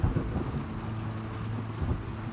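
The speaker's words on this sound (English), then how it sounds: "this thunder really is loud" Thunder rumbles in The Last of Us Part 2 video game, a low, rolling boom with wind-like noise that swells at the start and again near the end, heard alone.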